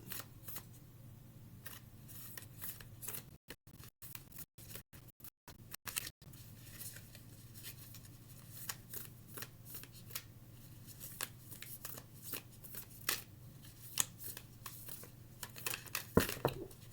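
Tarot cards shuffled by hand at close range: soft riffling and sliding card noise in a quiet room, with faint flicks and taps continuing intermittently, no talking.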